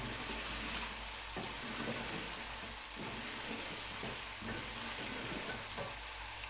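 A paste of ground tomato, green chili and ginger frying in a pan for chicken pulao, with a steady, even sizzle and occasional soft stirring scrapes throughout.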